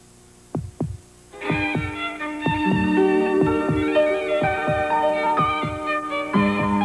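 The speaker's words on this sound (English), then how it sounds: "listen to your heartbeat" A rhythmic heartbeat-style thump pulses steadily near and loud through a Chevrolet Nova car commercial, with a low hum and layered musical tones rising under the beats.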